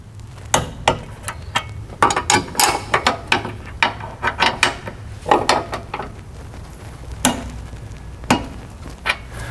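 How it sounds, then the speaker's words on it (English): Torque wrench tightening rear suspension bolts on a Volkswagen/Audi MQB chassis car, a series of close ratcheting clicks in irregular bursts of several strokes, separated by short pauses, with no speech. "now we're going to torque both of these down to 70 Newton meters"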